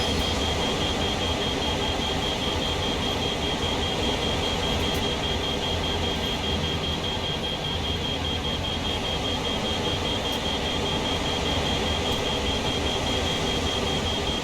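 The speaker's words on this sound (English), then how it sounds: "Here we can hear the alerter alarm." Cab alerter alarm on a Norfolk Southern GP38-2 diesel locomotive in Train Sim World at Horseshoe Curve, a steady tone held throughout over constant engine and rail rumble.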